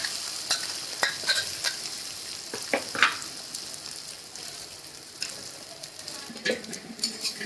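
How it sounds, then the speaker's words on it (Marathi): Chutney of dried bombil fish fries in hot oil, giving a continuous close sizzle with repeated spatula stirs and scrapes. "तेल गरम तेल तापले आता त्याच्यामध्ये चटणी टाकून देते"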